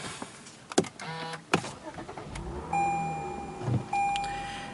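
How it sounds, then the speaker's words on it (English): A few clicks and a soft electronic chime, then a 2014 Lexus IS350 F-Sport engine cranks and catches briefly before more chimes sound inside the cabin. "Let's go ahead and start up the car."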